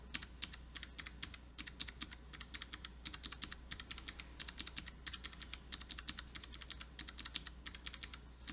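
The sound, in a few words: computer keyboard key presses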